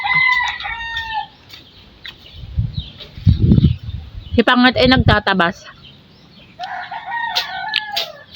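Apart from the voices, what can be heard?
chickens clucking and crowing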